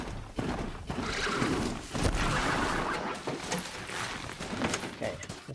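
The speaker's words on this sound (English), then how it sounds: "Look at that horse." A horse in the video game Horizon Zero Dawn neighs and whinnies amid hoof clip-clops, fairly close, with someone talking over the game sounds.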